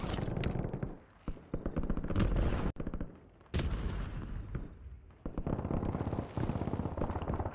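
Gunfire in a tactical shooter video game: repeated bursts of automatic weapon fire, loud and close, broken by short pauses, with rapid shots running through most of the stretch.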